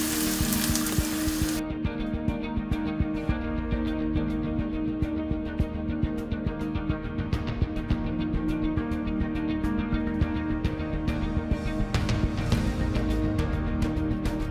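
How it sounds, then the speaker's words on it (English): Cream with onions and minced garlic simmers in a pan with a constant, close, steady sizzle and bubbling that carries on with no talking. "once you've added the cream to the onions and the minced garlic, you're just going to bring it all to a simmer"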